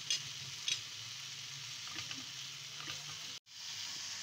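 Fried chicken being stirred with chili garlic sauce in a hot pan, a soft continuous sizzle with faint spoon scrapes, quiet throughout, cut by a brief dropout near the end.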